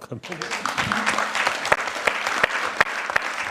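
An audience applauds at a poetry and literary event, with steady, dense clapping that fills the whole stretch and a voice faintly present beneath it.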